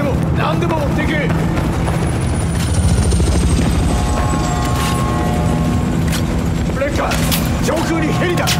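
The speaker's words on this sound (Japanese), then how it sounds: "上空にヘリだ。" A military helicopter in the game Battlefield 4 campaign, set in the Kunlun Mountains, thunders overhead with a loud, constant rotor chop and engine whine, with game music and voices layered on top.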